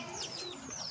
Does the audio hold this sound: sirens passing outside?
no